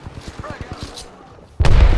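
Video game firefight: a rapid run of sharp shots ends in a sudden loud, heavy blast that fills the final half second.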